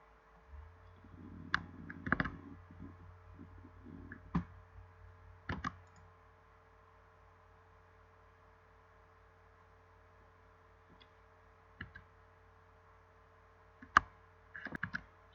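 Sparse clicks of computer buttons in a quiet room, a few sharp taps spaced seconds apart with a low steady hum underneath.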